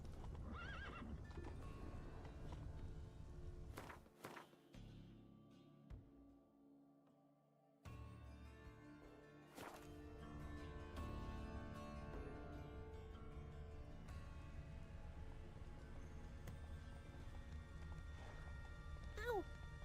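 Roach, a horse in the video game Witcher 3, gallops with rapid clip-clop hoofbeats and lets out sharp neighs and whinnies. A short drop in the middle breaks the galloping, which then resumes at a steady rhythm.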